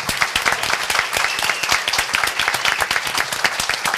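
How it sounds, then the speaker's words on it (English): An audience at a school board awards event gives a round of applause for district and regional Governor's Cup champions, producing steady, dense clapping throughout with no pauses. "so we can give them a round of applause."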